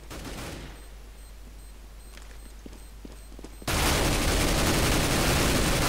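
AK rifles fire in Counter-Strike: Global Offensive. After a quiet stretch with a few faint clicks, a loud, dense burst of gunfire erupts and continues without a break to the end.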